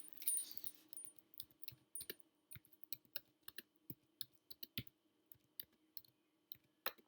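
Typing on a computer keyboard, with a steady run of distinct key clicks at an unhurried, uneven pace, close and fairly quiet, with no talking.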